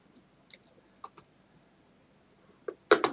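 Mouse clicks in Excel, sharp and close: a single click, then a quick cluster of three, and a final pair of louder clicks at the end, with quiet between them.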